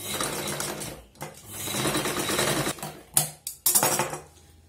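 A sewing machine stitches thread piping onto a blouse neckline in close, bursty runs of rapid whirring, with brief pauses and a few short restarts near the end.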